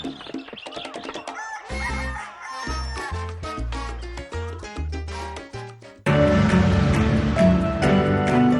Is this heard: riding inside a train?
no